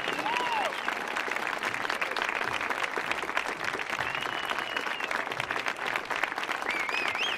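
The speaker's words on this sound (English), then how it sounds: "How about another round of applause for Miss Danielle Wirtz?" Sustained audience applause at a youth orchestra concert on an indoor stage, a dense steady clapping that holds at an even level throughout with a few faint whistles rising above it.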